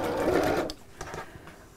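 A sewing machine stitching a seam along the edge of the presser foot, with a short, fairly loud mechanical whir that stops abruptly, followed by faint handling clicks.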